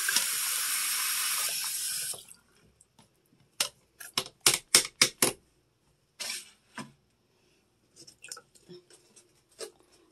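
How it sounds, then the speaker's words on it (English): Tap water runs steadily for about two seconds while a cleaning brush is rinsed, then stops, followed by faint scattered clicks and knocks at a sink. "And rinse your brush off."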